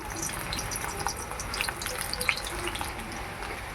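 Onions and green chillies frying in hot oil in a wok, a soft continuous sizzle with small crackles and pops, fairly quiet, with a voice speaking over it.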